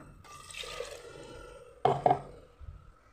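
A short splash of water from the ground spice paste poured into a pressure cooker pan of vegetable curry, two quick wet bursts after a soft sizzling hiss, fairly close.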